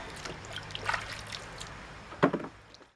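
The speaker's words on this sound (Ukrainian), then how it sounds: "Яблука доволі брудні, тому їх потрібно гарно вимити" Dirty apples are washed in water, giving soft splashes and a trickle with a couple of sharper sloshes, close but fairly quiet.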